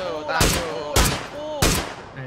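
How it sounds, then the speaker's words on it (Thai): Three loud gunshot bursts from PUBG gameplay, spaced about half a second apart, each a sharp broadband crack with a ringing tail, over faint background game ambience. "เพื่อนยิงเหรอพี่"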